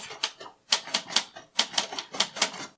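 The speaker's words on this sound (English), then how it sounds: "Oi, the typing. Always with the typing." Typewriter typing in a stage comedy scene, clattering in quick bursts of keystrokes separated by short pauses, fairly close and with no talk over it.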